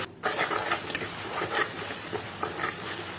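Tomatoes with garlic and mustard seeds sautéing in a pan, a steady close sizzle with soft stirring scrapes running throughout, no talk.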